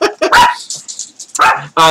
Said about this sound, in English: My dogs apparently just got really excited because they heard me talking.